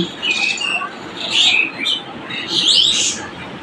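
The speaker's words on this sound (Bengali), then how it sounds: "কতগুলা চড়ুই পাখি কি কিচিরমিচির শুরু করছে" Sparrows chirp in a village in the morning, bright twittering calls arriving in several lively bursts that rise and fall over a soft background, with no voices.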